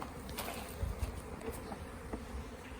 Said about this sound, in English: I think a pretty nice little swarm.